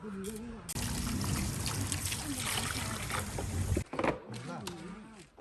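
Water gushes steadily from a tap into a basin to wash fresh lotus roots, a loud continuous rush lasting about three seconds, with voices talking just before and after it.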